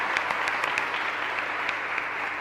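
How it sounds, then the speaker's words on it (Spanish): Congregation at a parish Mass applauding steadily, a dense even wash of clapping that stays loud and unbroken for the whole stretch. "Un fuerte aplauso entonces para el Señor."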